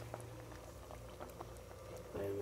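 Water for chicken biryani boiling in a pot, a soft steady bubbling with faint patter, low and close, with a brief louder clink near the end.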